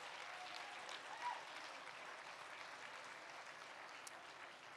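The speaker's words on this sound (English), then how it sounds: "Please give them a round of applause." An audience at an auctioneer championship applauds, a steady round of fairly faint, distant clapping that holds evenly for several seconds with no voice over it.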